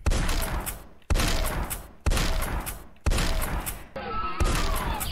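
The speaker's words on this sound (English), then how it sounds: "You know, it's fun to shoot the wall" Repeated shotgun blasts fired at a wall in the Death 3D video game level editor, five loud booming shots roughly a second apart, each with a decaying reverberant tail.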